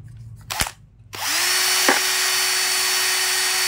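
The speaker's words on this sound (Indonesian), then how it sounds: "Ini kalau pakai bor ya" A power drill starts after a couple of sharp knocks and then runs at a steady, loud high whine without pause, close by and with no talk over it.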